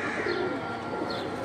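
Teddy pigeons coo softly in a loft, two low rolling calls over a steady background hiss, faint and without any voices.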